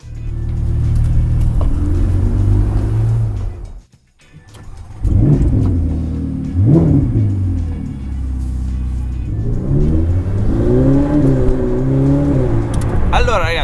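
Ferrari 488 Pista sports car engine revving loudly and close, with rising and falling pitch sweeps, a brief drop to near silence midway, then renewed throttle blips and climbing revs.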